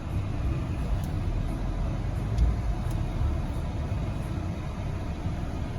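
A turbocharged truck engine accelerating, heard as a steady, loud, low rumble with broadband roar that holds level throughout, with no voices.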